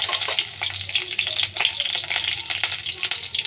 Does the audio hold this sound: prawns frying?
yes